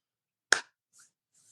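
A single sharp clap, like one pair of hands struck once during a podcast conversation, loud and close, followed by a short quiet stretch with faint soft hissy rustles and no talk.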